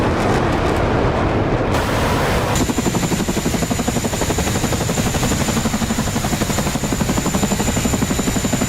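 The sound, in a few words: helicopters flying overhead in video game DCS World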